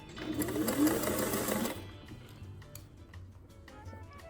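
Sewing machine stitching small pleats on a 1920s dress mock-up, a quick loud mechanical whir lasting under two seconds, then a quieter room with faint ticking.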